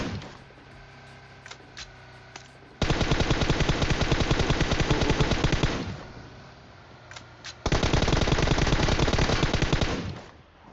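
Rapid automatic M4 rifle fire in the video game PUBG: two loud sustained bursts of about three seconds each, separated by quieter single shots and background game noise.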